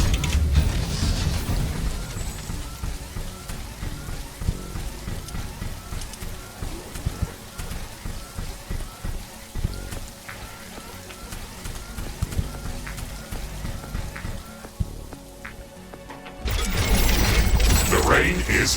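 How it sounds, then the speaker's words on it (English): Rain falling in the sci-fi base-building game Riftbreaker, a dense steady patter with mechanical clicks and game effects layered in, ending with a louder burst of noise near the end. "The rain is over."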